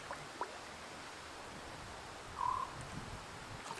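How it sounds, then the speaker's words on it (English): A crow gives a single brief, unusual call out in the wilderness during a solo canoe camping trip, fairly faint and distant over steady outdoor ambience. "It's just a crow? Never heard a crow make that first noise."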